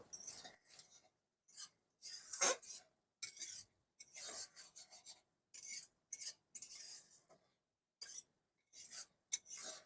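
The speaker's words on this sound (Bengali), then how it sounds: "এবারে আমি ঢাকাটা তুলে নেব একটু নাড়াচাড়া করে নেব লতিগুলো" Taro stolons (kochur loti) stirred in a pan after the lid comes off, a run of close, quiet scraping and rasping strokes in irregular bursts separated by brief silences.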